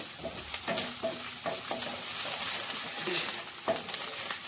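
Ginger garlic paste fries with onions in a pan for a palak paneer curry, a soft steady sizzle broken by repeated scraping stirs of a spatula, close and fairly quiet.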